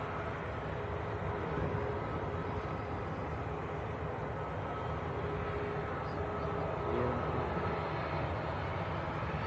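Ryanair airliner bound for Pisa at Manchester Airport, heard as a steady, broad jet engine roar that holds at a constant level throughout, with no voices.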